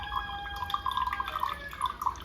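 Water runs from a homemade automatic dispenser in a thin, steady trickle with dripping, close and fairly clear, with no talking.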